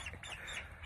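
Young turkey poult cries in a farm yard while being caught and carried, thin high-pitched calls running continuously through a brief, fairly faint moment over low background rumble.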